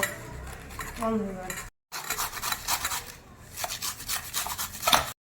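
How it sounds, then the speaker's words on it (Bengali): A knife slices peeled mangoes into small pieces, giving repeated soft scraping and cutting strokes close by, with a short pause midway and a metallic tap near the end. "আমগুলো এবার ছোট ছোট করে এরকম স্লাইস করে দেব"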